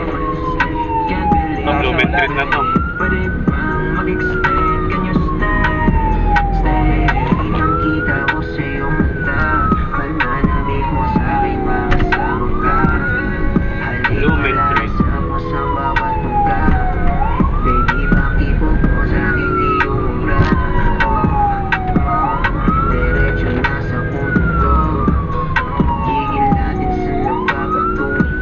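A phone emergency alert wails for an extreme rainfall warning, a repeating rising-and-falling tone that cycles steadily and loudly throughout while people talk nearby inside a vehicle during a ride in Manila.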